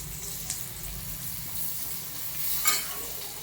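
Green chillies dropped into fried garlic for a spicy garlic spinach dish, giving a steady close hiss of hot oil with a brief louder sizzling burst near the end.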